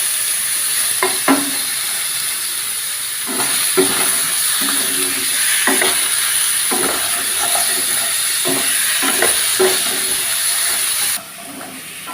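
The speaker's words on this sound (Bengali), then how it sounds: "এবার পটলগুলো একটু নাড়াচাড়া করতে হবে কড়াইয়ের মধ্যে, হালকা করে ভাজতে হবে।" Pointed gourd fries loudly in a wok under a constant hissing sizzle, with repeated scraping and clanking strokes of stirring at irregular intervals. The sound turns quieter toward the end.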